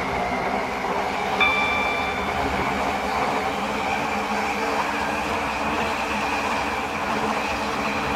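An Airlink shuttle train runs in the Roblox rail game SCR, a steady even rumble with a faint thin whine and a brief high tone early on, with no voices.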